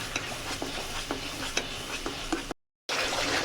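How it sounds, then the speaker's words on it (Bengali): Shol fish kalia ingredients frying in a pan, with a steady low sizzle broken by repeated light stirring scrapes, close and fairly quiet, with a brief dropout near the end. "এবার এগুলোকে ভালো করে ভাজবো।"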